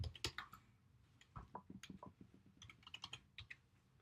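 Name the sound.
typing on a computer keyboard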